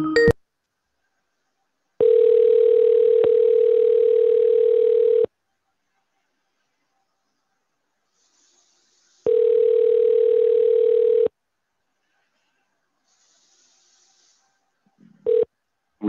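A steady telephone dial tone sounds in two clean bursts of about three and two seconds, separated by silence, with a brief click and a short final blip at the end.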